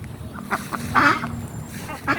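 Ducks at a canal-side duck farm quack in short nasal bursts, several calls close together, with light background noise around them.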